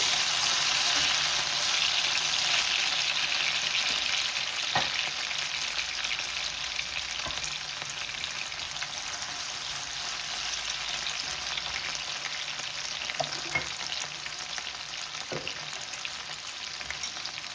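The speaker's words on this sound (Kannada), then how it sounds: "ಟೊಮೆಟೊ ಸೇರಿಸ್ಕೊತೀನಿ. ಫ್ರೈ ಸ್ಟೀಮ್ ಮಾಡ್ಕೊತಾ ಇದ್ದೀನಿ." Chopped tomato fries in a pan with quail eggs and potato, giving off a steady, bright sizzle that carries on evenly with a few soft clicks of stirring.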